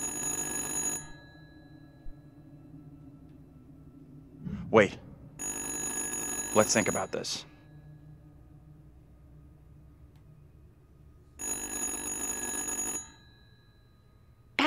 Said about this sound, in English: that's a disconnected phone ringing